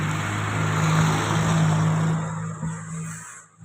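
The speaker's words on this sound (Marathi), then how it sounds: "ते बघा, पाठीमागे गाडी येत आहे," A school bus approaches from behind on an open road, its engine drone loud and steady with a sustained tonal hum, then fading away near the end.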